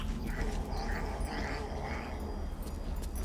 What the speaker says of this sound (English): Was that the cat making that noise?